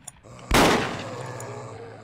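A shotgun blasts once in Project Zomboid, aimed at a crowd of zombies: one sharp, loud crack followed by a long decaying rumble and ringing tail, with a faint click just before.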